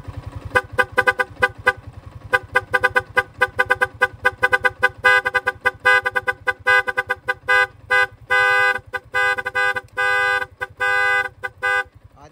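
A PIAA loud horn paired with an NHAY3 music horn on a stock horn setup blasts in rapid repeated honks, then switches to longer sustained musical tones in choppy bursts, loud and close with no talking.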